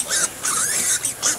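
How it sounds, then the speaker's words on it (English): Hungry pigs in their pens give short, bursty squealing oinks close by, several overlapping grunts in quick succession over about a second and a half. "Hungry pigs."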